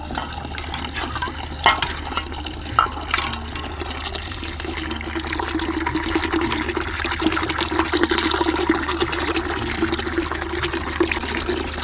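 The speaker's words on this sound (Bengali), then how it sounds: "সকাল সকাল জল চলে এসছে জল নিতে চলে এসেছি আর এই যে এটা ভরে গেছে" Morning tap water runs into a container at a home water point, a continuous splashing flow that grows fuller and slightly louder as the vessel fills.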